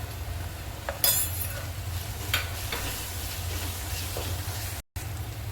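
Masala and gravy for a spicy soybean curry fry in oil while being stirred, a steady close sizzle with a low hum underneath and a few scraping strokes of the spoon.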